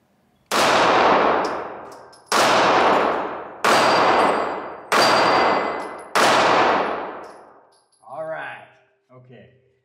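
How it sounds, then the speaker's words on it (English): Five loud, sharply separated shots from a Sig Sauer P938 micro compact pistol fired at a range, each cracking hard and ringing out with a decaying tail, followed by a couple of fainter knocks. "let's do some more shooting"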